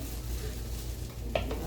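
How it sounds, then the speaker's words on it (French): Water is poured over rice in a hot pan, giving a continuous sizzle with stirring and a brief scrape of a utensil against the pan near the end, and no talk. "je vais ajouter un peu d'eau, pas beaucoup, un peu d'eau pour que ce riz ici puisse avoir de la saveur"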